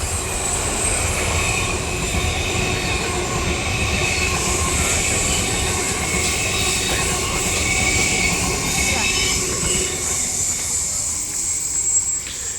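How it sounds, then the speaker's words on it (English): A double-decker train rumbles past in Amsterdam's Westerpark, with a broad roar of wheels on rails and high metallic squeal throughout, loud and close. "Here comes the train. And yeah, here's our double-decker trains."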